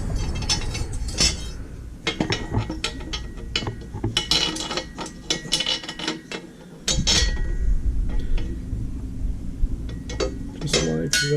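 A metal bolt, washer and nut are handled while assembling a Harbor Freight 69522 one-ton engine stand: close, irregular metallic clinks, taps and ratchet-like clicks, with short pauses and a brief lull partway through.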